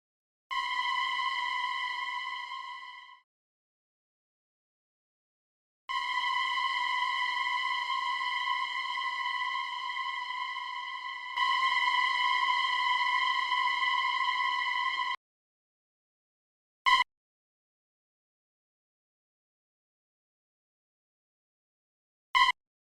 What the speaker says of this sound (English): By pressing this freeze mode here, the reverb freezes in time, so it goes on forever